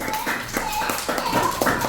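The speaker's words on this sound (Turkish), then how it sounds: "Arkadaşlarımıza bir moral alkışı verelim" Young first-grade classmates clapping for their friends during a name-city quiz game in a classroom, with scattered, uneven claps repeating over a steady murmur of background chatter.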